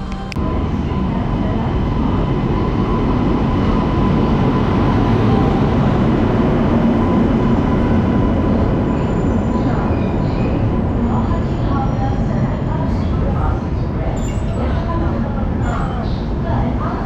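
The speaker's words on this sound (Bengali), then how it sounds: "একদম 8:46 আমাদের ট্রেন ঢুকলো সরাইঘাট এক্সপ্রেস।" The 12346 Saraighat Superfast Express pulls into platform 5 at New Jalpaiguri with a loud, steady rumble of wheels and carriages that fills the whole stretch without a break.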